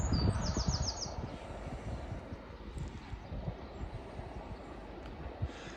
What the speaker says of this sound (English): Right, our train is approaching again.